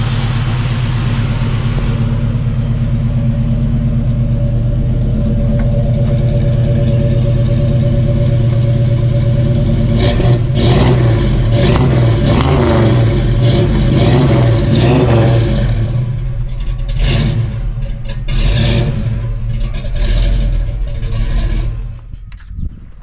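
A 1971 Chevy Camaro with a big block engine idles with a deep, steady rumble, then revs hard several times in quick bursts before settling back down, loud and close.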